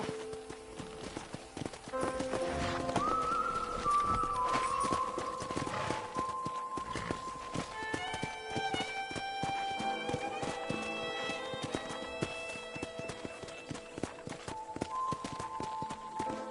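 Horse hooves clip-clop steadily at a walking-to-trotting pace across a ranch in Red Dead Redemption, with occasional tack jingles and a soft musical bed underneath.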